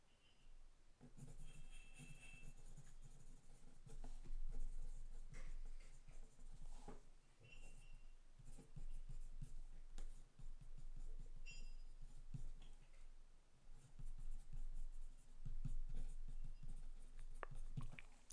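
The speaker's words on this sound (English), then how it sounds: "let me just write this down" Pen writing on paper at a desk, steady scratchy strokes running continuously and close up, with small pauses between words and no talking.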